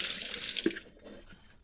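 Water poured from a tap or container into a pig feeding trough, a steady splashing gush that is loud at first and then thins out, with no one talking.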